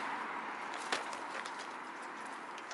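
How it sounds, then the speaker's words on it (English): Faint pigeons feed greedily close by, their soft pecking and shuffling taps scattered over a quiet, airy background without talk. "Greedy pigeons."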